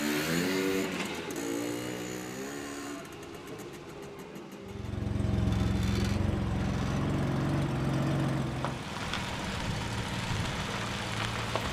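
A restored East German classic car rolls out of a home garage, its engine idling then rising into a steady, close, fairly loud running note, with no talking over it.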